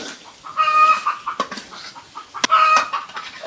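Chickens cluck close by in short irregular bursts of clucks and squawks, with quiet gaps between them and no talking.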